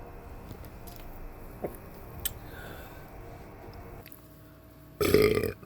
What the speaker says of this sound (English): Excuse me, I burpled.